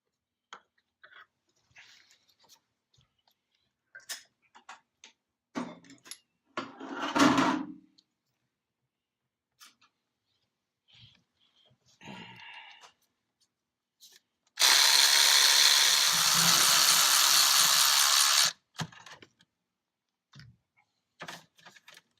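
Tools work on the injector bolts of a 2004 Ford F250 engine, giving sparse clicks and metallic taps, a short rattling burst, then a loud, steady whir of a power driver lasting about four seconds before more scattered clicks.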